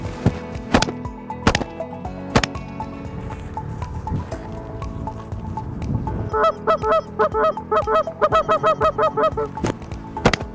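Canada geese honk repeatedly during a goose hunt, a loud chorus of overlapping calls that grows into a rapid, rhythmic series of honks, with sharp gunshot cracks scattered throughout.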